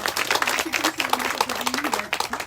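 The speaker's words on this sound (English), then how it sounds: "can we give him a round of applause?" A crowd claps together in dense, steady applause at an outdoor ribbon cutting in a park, with a voice faintly audible underneath.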